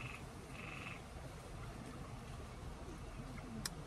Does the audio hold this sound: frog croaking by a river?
yes